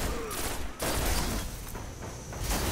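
Rapid bursts of video game gunfire from snipers and other weapons in a team battle, dense and loud with brief gaps, heard close and continuously.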